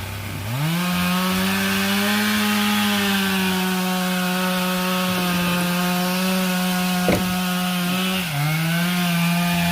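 Chainsaw cutting into a walnut tree, the engine revving up to a loud, steady, close drone that holds through the cut with a slight dip in pitch near the end.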